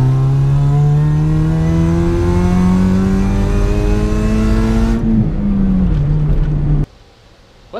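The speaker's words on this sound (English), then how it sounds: "Listen for that supercharger whine." A Nissan Skyline with a supercharger revs hard, a loud, close rising engine tone with a whine layered on top, easing back down before cutting off abruptly into near silence.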